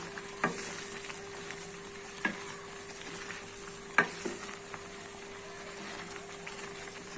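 A green chili pickle is stirred in a pan over low heat, a faint steady sizzle with a few sharp spoon knocks against the metal spaced a second or two apart, no speech.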